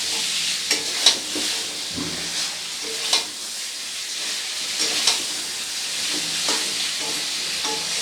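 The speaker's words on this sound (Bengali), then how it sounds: "ভেজে রাখা পটলটা দিয়ে মশলার সাথে খুব ভালো করে একবারে মিশিয়ে নেব।" Fried pointed gourd being stirred into masala in a pan, a steady sizzling hiss with intermittent scrapes and clicks of a spatula, close and continuous with no talk.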